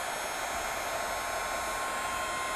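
Heat tool running steadily to emboss powder on a greeting card, a constant loud blowing whir with no break or talk.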